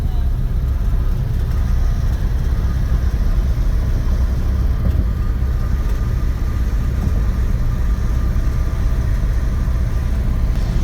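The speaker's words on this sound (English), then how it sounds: "So how's she driving for you, Anna?" A 1964 Dodge sedan, an original survivor car, drives along with a steady low engine drone and road rumble throughout, loud and close from inside the cabin.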